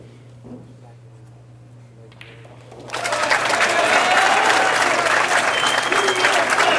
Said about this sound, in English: a very partisan American crowd letting Shawn Putnam know how they feel about him stringing a few racks together